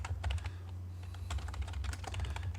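Keys clatter on a computer keyboard as the CAL command is typed into AutoCAD, a quick run of close, crisp taps with no talking.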